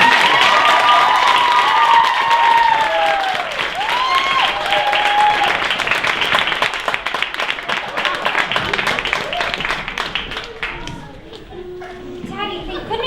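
Loud audience clapping and cheering at a children's stage show, with kids' shrill voices and squeals mixed into the sustained applause that thins out toward the end.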